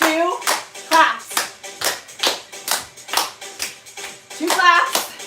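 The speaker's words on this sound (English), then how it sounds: "2 claps." Hand claps in pairs during an intenSati fitness workout, sharp regular bursts repeating steadily through the passage, close and fairly loud, with brief vocal sounds at the start and end.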